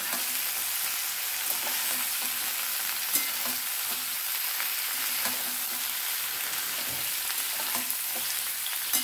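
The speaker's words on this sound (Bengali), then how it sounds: "এইভাবে নাড়াচাড়া করে আমি খুব ভালো করে ভেজে নেব।" Vegetables sizzle continuously in a hot pan while being stirred, a dense even frying hiss with occasional spoon scrapes, close and constant with no talking.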